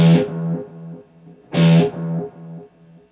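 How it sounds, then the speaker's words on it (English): Two distorted electric guitar notes ring out through an MXR Carbon Copy analog delay pedal, each followed by a series of fading delay repeats in a steady rhythm. "It's an MXR carbon copy analog delay"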